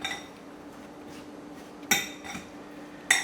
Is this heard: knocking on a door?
no